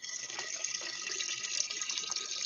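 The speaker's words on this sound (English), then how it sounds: "That definitely sounds like somebody's draining their vein." A man urinates into a toilet over an open live-stream microphone, a steady hissing splash of liquid that runs continuously and fairly faint, with no talking.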